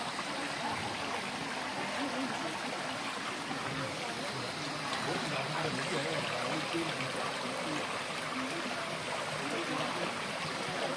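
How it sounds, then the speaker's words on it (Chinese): Stream water flows steadily at Betong, a continuous close rushing wash that stays even throughout with no clear voices on top. "美丽的水声，还有很清"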